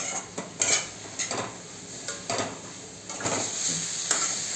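Shredded cabbage with crushed peanuts sautés in a pan, a soft steady sizzle punctuated by repeated scraping stirs of a spoon against the metal, close and moderately quiet with no voices.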